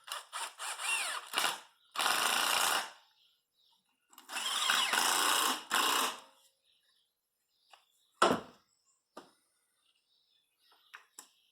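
Power tool spinning bolts down while fitting an ignition coil on a Pontiac Grand Prix: several short, loud ratcheting bursts of a drill-driver, close up, separated by quiet pauses and small clicks.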